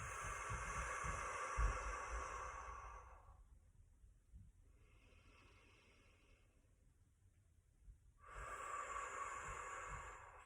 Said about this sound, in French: prendre quelques respirations là